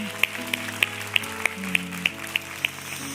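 A church congregation at a Sunday worship service claps in a slow, evenly spaced rhythm, about ten sharp claps over sustained organ or keyboard tones.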